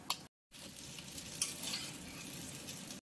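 Boiled pasta tossed into frying scrambled egg, a soft steady sizzle with stirring scrapes for a few seconds, fairly quiet, broken by brief silent gaps near the start and end, no talking.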